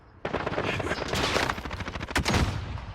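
Rapid automatic gunfire in the shooter game Call of Duty: Modern Warfare, a dense burst of close, loud shots starting abruptly and continuing as sustained fire with a few heavier cracks.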